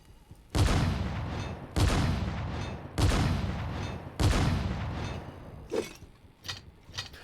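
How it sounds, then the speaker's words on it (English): Four heavy, booming shots from a musket pistol firing exploding cannonballs in Pixel Gun 3D, evenly spaced about a second apart, each with a rumbling tail, followed by a few smaller clanks and pops. "now you just develop a musket pistol that shoots what looks like exploding cannonballs"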